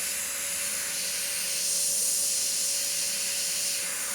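An airbrush sprays paint in a steady, airy hiss that swells slightly in the middle, close and continuous with a faint compressor tone underneath and no voices.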